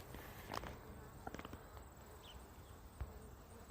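A honey bee swarm gathered outdoors near its hive in Sturbridge, Massachusetts, makes a faint, continuous insect buzz, with a few soft knocks and rustles nearby.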